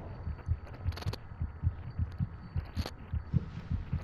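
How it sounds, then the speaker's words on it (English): A baby's rapid heartbeat from the horror video game Among the Sleep, a steady quick series of soft low thumps pulsing close and alone, with a few brief higher clicks mixed in. "Baby's heartbeat beating fast."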